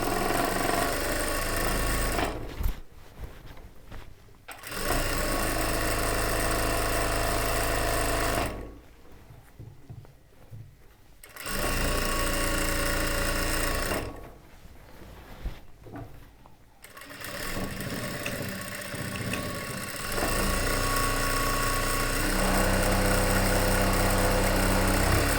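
Electric sewing machine stitching a churidar top, running loud and close in long continuous bursts with short stops between, the motor whirring steadily through each run.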